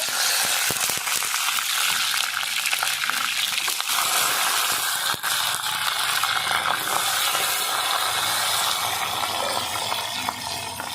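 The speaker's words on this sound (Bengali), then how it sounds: "আজকে আমি সাদা তেলে রান্না করব প্রথমে আমি ফুলকপিগুলো লাল করে নেব" Cauliflower florets fry in hot white cooking oil, giving off a steady, dense sizzle with small crackles that carries on unbroken from start to finish, close up and with no talking.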